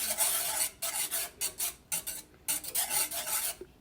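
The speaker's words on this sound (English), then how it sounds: "That's why you continuously keep it on the heat and you stir." A utensil scraping and stirring flour gravy with black pepper in a pan over heat, a rough rhythmic rasping in repeated strokes with brief pauses between them, close and steady with no talking.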